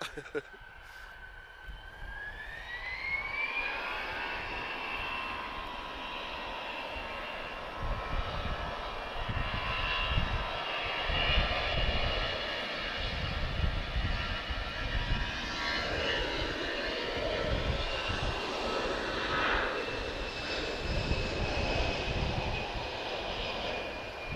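An EasyJet airliner approaching Lisbon Airport, its engine roar swelling from a distant whine to a loud, broad rumble that holds for over twenty seconds, with faint voices beneath.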